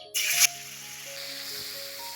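Hilsa fish is slid into hot oil, giving a sharp, loud hiss for a split second that drops to a quieter, steady sizzle running on close by.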